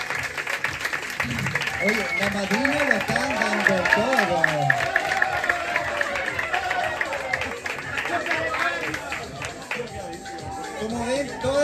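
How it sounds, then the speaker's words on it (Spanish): An audience at a live improvisation show claps and cheers in a noisy, sustained burst, while someone speaks loudly over the crowd throughout. "más fuerte el aplauso"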